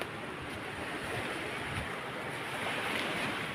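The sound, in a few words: sea waves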